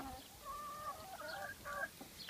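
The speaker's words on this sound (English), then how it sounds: "These are chickens." Several chickens clucking softly nearby, a few rising and falling calls overlapping against a quiet background.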